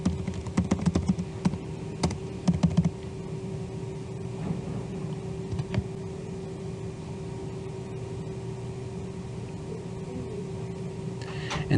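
Keys clatter in a quick burst of typing on a computer keyboard as a username and password are entered, loud at first and then giving way to a steady room hum.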